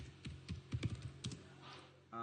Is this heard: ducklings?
no